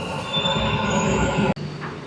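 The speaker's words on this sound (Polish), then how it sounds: "No i tutaj jest cały ten tor nadziemny metra." A Dubai Metro train runs along the elevated track, its wheels squealing in sustained high metallic tones over a steady rolling rumble, fairly loud and close, before the sound cuts off abruptly and then resumes.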